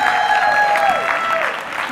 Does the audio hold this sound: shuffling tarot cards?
no